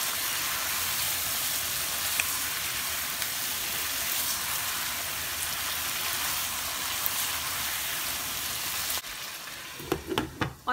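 Chicken frying in a pan gives a steady, close, crackling sizzle throughout, with a few clattering stirring knocks near the end.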